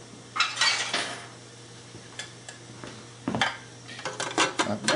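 A utensil stirs flour in a metal bowl for homemade rolls, producing close, irregular clinks and scrapes against the bowl in short bursts with quieter pauses between, and no talk.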